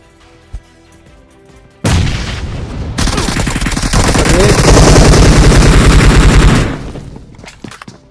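Video game bomb explosions and sustained gunfire erupt after a short quiet lead-in, a loud dense rattle of shots and booms lasting several seconds before cutting off.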